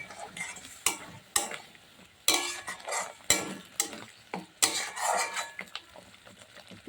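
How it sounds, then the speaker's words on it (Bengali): Spice paste stir-fried in oil for a doi fish curry, with repeated sharp scrapes and clatters of a spatula against the pan over a soft sizzle, close and uneven. "মশলাটা আরও একটু ভালো করে কষা হোক"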